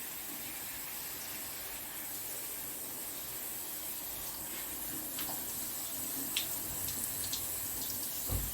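Running water pours steadily over potted orchids on a home balcony, a continuous broadband hiss with a few brief splashes toward the end, with no one speaking.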